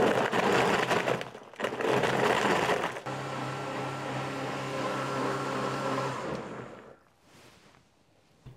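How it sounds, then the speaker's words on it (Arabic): A blender making a lemon mint drink whirs in loud bursts, a few short pulses followed by a longer steady run with a low motor drone, then it winds down. "رح أبدأ هون أخلط على ضربات أو دفعات حتى أحافظ على شفرات الخلاط ما أأذيها"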